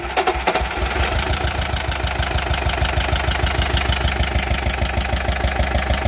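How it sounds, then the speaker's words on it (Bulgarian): A small engine, started by holding the decompressor, sputters into life and then settles into a steady, rapid knocking idle, loud and close, with even thumping pulses and no voices over it. "Това е моторче."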